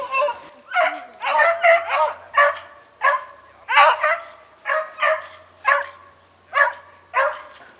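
Hare-hunting dogs bark outdoors in snow, a steady run of loud, close barks repeating about every half second to second, some pitched higher and yelping, continuing throughout.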